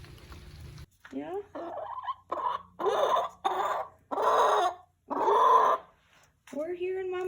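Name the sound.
hen clucking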